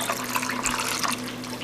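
Rendered pork fat lard pouring from a pot into a warm glass jar, a steady close liquid stream lasting a moment, with no talking.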